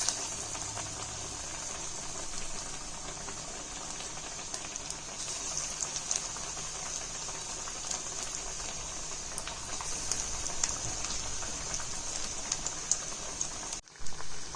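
Masala vada fry in hot oil for a tea-shop style snack, a continuous bubbling hiss like light rain that carries on steadily with small crackles and no speech.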